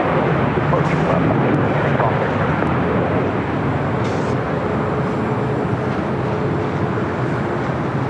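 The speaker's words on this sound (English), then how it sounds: "That was Southwest Airlines flight 2660 coming in from Phoenix on that 737-800." A Southwest Airlines Boeing 737-800 lands at LAX after arriving from Phoenix. Its steady jet roar is loud and sustained throughout, easing slightly toward the end.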